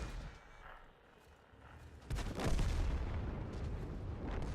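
A heavy tank cannon in World of Tanks fires, a sudden loud boom at about two seconds that rolls into sustained rumbling battle noise, with quieter ambience before it.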